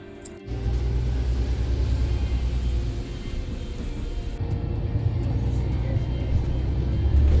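City bus engine rumble heard from inside while riding in A Coruña, a steady loud low drone that builds slightly over several seconds.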